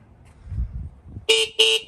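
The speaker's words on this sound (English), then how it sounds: "people are gonna be scared when I honk that horn" Two short horn honks from a Yamaha YSR50 motorbike in quick succession, loud and close, after a stretch of low rumbling engine noise.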